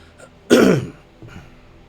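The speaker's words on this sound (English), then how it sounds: "I got a little bit of a cough" A person clears their throat once, sharply and close by, with a short rough burst that fades out, followed by a faint second catch. Nobody speaks.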